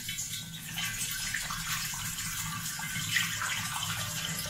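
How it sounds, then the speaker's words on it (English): A gallon of water being poured into a jug for making orange mead, a steady continuous splashing gush that runs unbroken for several seconds with no voices. "So let's go ahead and get this water in the jug."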